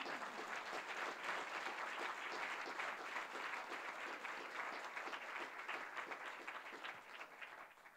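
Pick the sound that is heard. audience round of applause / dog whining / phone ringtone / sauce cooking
audience round of applause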